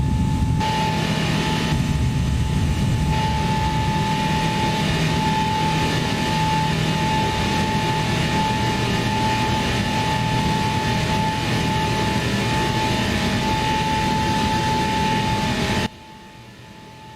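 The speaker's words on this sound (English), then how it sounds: "we are airborne and climbing to our cruise altitude" A Boeing 777-300ER airliner climbs after takeoff in X-Plane 11 with a steady, dense engine roar and a sustained whine, unchanging for about sixteen seconds before dropping off abruptly.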